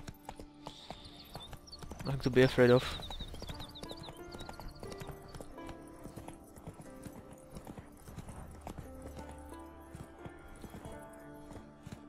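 Roach, the horse from The Witcher 3, clip-clops steadily on hooves throughout, with a brief louder burst of neighing or commotion early on and a short line of speech over the game's music.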